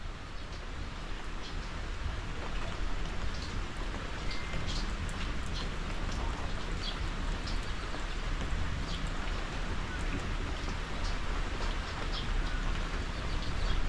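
Steady heavy rain pours down in a dense, even hiss with scattered drop splashes, continuous and unbroken.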